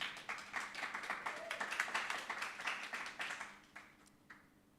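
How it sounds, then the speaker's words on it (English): Audience applause for a panelist at the Africa Rising Music Conference, a crisp burst of many hands clapping that holds for a few seconds and then tapers to scattered claps. "A huge round of applause for our first panelist, Philip Greffer."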